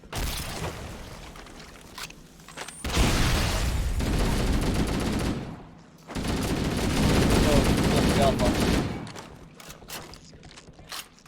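Gunfire and explosions from the Halo CE video game erupt in two loud, sustained barrages of rapid shots and blasts, separated by a brief lull, with quieter game sound before and after.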